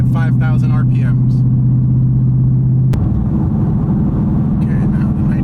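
Car engine idling with a loud steady drone during a nitrous test hit, then the pitch shifts abruptly partway through as the engine note changes, with the rumble continuing throughout; speech-like sounds are faint in the background.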